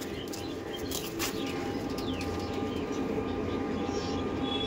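Madrasi pigeons in a loft cooing softly amid scattered chirps, with a constant low rumble of background noise beneath and faint talk in the distance.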